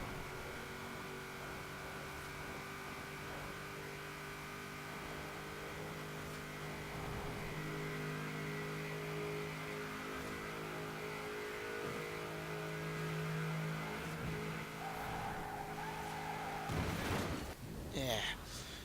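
A 2005 Vauxhall Monaro VXR engine at high speed in Forza Horizon 4, a steady, loud, humming drone with a few rising rev swells and tyre noise near the end, heard beneath a speaking voice.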